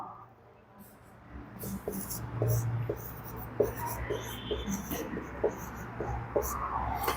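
Chalk scratching and tapping on a classroom board during a Hindi history lesson, a run of short strokes under a low room hum with faint background voices.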